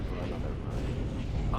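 Starship cannons of Mandalorian and Imperial warships firing in a Star Wars space battle game, a brief, dense rumble of rapid low blasts.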